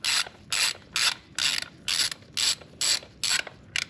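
A ratchet wrench clicks in nine even bursts, snugging bolts near the rear floorboard of a Harley-Davidson Road Glide during an oil change. The sharp, close, repeated clicking stands alone with no talk.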